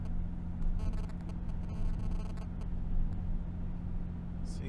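A vehicle in ninth gear descending the Serra de Garuva mountain road in Santa Catarina, its engine a steady, loud low rumble with continuous road noise and no talking.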